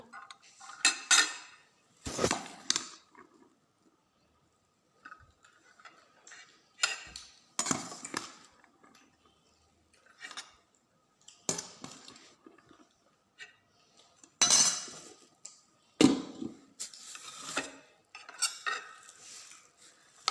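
Metal spoon clatters and scrapes against a pot and bowl while fried tripe is served out, in irregular bursts of clinks separated by short pauses, close and fairly loud with no talking.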